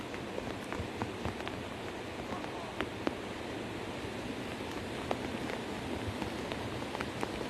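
Steady rain falling in a dense, even hiss of drops striking surfaces, with scattered louder drop impacts; rather faint overall and without talk.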